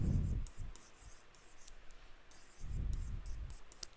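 Marker strokes on a classroom board while a maths statement about an elevator's position is written, a run of soft scratchy clicks and taps, with a voice speaking at the start and again later.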